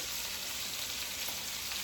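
Beef sizzles steadily as it sears in a pan for a French beef roast, a brief, even hiss heard close up with no talk.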